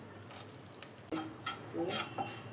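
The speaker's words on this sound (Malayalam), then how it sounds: "ഇപ്പം എല്ലാം കൂടെ ഒന്ന് മിക്സ് ചെയ്ത് കൊടുത്തിട്ടുണ്ട്" Chickpea curry is stirred in a pan with chopped green chilies and curry leaves, giving faint scraping and soft clinks of a spoon over a quiet background hiss, close by, with no one talking.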